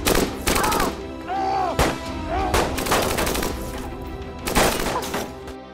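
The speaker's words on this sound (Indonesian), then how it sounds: "terjadilah aksi tembak-tembakan" Gunfire in an action film shootout: several loud, sharp bursts of shots spaced through the scene, with crackling impacts between them and a wailing tone underneath.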